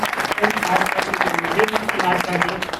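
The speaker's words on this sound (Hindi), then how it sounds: "एक बार जोरदार तालियां हो जाएं इन कलाकारों के लिए" Loud applause from an audience for performers at a literary award ceremony, dense clapping throughout with a voice speaking over it.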